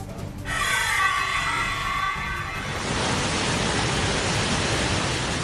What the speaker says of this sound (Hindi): पानी की गर्जना इतनी है कि 3 किलोमीटर दूर तक इसका शोर सुनने को मिल रहा है।